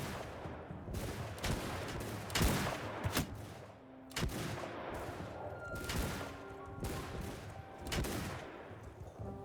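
Rapid bursts of gunfire crack repeatedly in a chaotic battle in the video game Shokuho, sharp shots and volleys overlapping amid a rumbling din, moderately loud throughout.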